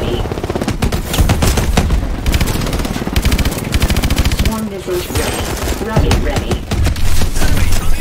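Rapid machine-gun fire in Call of Duty: Advanced Warfare, loud dense automatic bursts in several long rattling volleys with short gaps, mixed with booms and voices talking over the combat.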